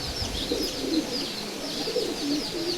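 A Giribaz pigeon cooing in a loft, soft low rolling coos repeating close by, with faint chirps from other birds in the background.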